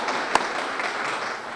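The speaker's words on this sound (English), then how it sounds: "Please help me give them a great round of applause." An audience at a community poster-artwork unveiling gives a round of applause, continuous clapping from a crowd with one sharp louder clap standing out near the start.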